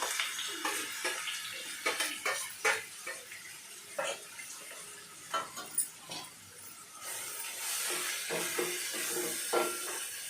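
Ground masala paste dropped into hot oil in a pan while cooking bitter gourd fry, giving a steady close sizzle and hiss with scattered crackles and spits throughout.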